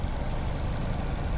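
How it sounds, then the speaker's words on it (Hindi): Maruti Suzuki Ciaz engine idling in a steady, low, even hum that holds without change for the whole short stretch, quiet and heard from close by, with no voices over it. "ये तो इंजन के चलने की आवाज़ है।"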